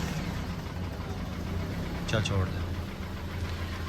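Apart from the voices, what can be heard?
Toyota Hiace 2TR petrol engine starting and idling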